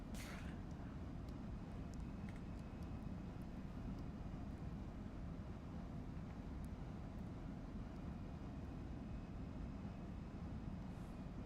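Airplane on approach to London City Airport in the X-Plane 12 flight simulator: a steady, broad engine and wind roar runs evenly throughout at a faint level, with no voices.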